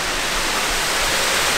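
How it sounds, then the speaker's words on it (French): An artificial waterfall in a display with penguins, indoors near an ice rink, gives a steady, full, hissing rush of falling water that fills the whole short stretch evenly and loudly, with no voices. "C'est un genre de cascade avec des pingouins."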